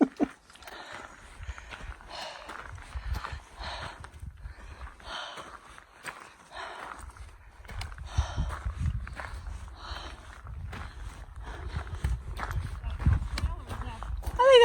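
Heavy, rhythmic breathing from a hiker climbing toward a summit, close and loud, mixed with crunching footsteps on the trail and brief bursts of talk.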